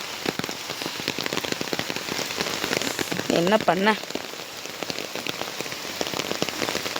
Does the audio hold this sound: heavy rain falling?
yes